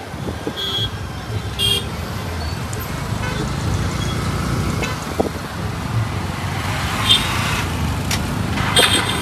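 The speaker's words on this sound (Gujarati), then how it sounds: "જોઈ લો આ પંડુ પર આનું ટ્રાફિક." Heavy road traffic near an Ashadhi Bij fair rumbles continuously, while several short car horn toots ring out over the steady engine noise.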